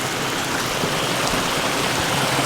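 A creek swollen by heavy seasonal rain rushes steadily behind a dam wall, producing a dense, even wash of flowing water that continues unbroken.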